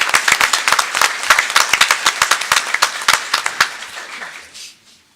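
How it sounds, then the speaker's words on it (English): A close, loud round of applause at a school board of education meeting honoring a girls' team, brisk mixed clapping from the room that tapers off and fades out near the end. "I would like to give the girls a round of applause for all their hard work"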